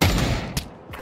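Gunfire in the Pavlov VR shooter game: a loud close burst of rapid shots at the start, then two sharper single cracks fading out.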